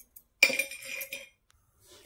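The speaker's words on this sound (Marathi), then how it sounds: "आता यावर आहे ना झाकण ठेवूया" A lid set down on a cooking pot of vegetables, giving one close, bright metallic clink that rings briefly and fades, with a faint tap just before.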